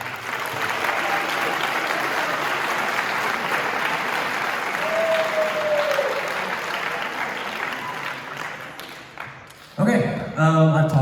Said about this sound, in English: I want to give one more round of applause to all the students